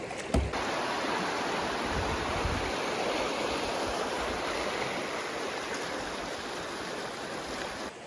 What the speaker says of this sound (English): here there's this big river